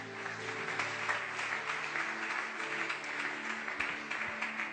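A church congregation applauds and acclaims the Scriptures, producing steady, dense clapping that holds at an even level throughout, with a sustained musical hum underneath.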